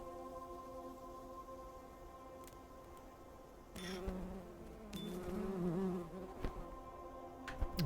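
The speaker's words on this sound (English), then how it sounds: "get a couple of lots of bees in here" Bees buzzing in the farming video game Preserve, a low droning hum with layered tonal bands that swells and thickens midway, joined by short clicks and chimes from the game.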